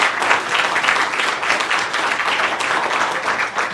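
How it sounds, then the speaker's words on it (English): An audience at a Liverpool Chamber of Commerce disaster recovery fund event gives a full, even round of applause, a dense wash of many hands clapping steadily throughout with no voices over it. "if we can have round of applause"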